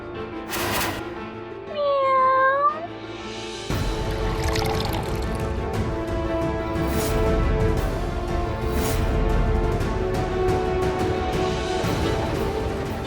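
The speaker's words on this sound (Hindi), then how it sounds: "बिल्ली की आवाज।" A single drawn-out cat meow rises early on, followed by a steady rushing, pouring-like background noise that fills the rest of the clip.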